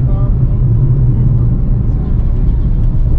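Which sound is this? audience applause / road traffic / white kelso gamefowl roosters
road traffic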